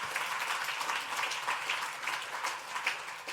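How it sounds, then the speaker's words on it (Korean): A church congregation at a Sunday worship service claps in warm, sustained applause. The dense clapping carries evenly across the room for a few seconds without a break. "뜨거운 박수로 격려하겠습니다."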